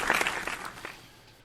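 A few quick hand claps heard during an office podcast, close by and sharp at first, then trailing off quickly.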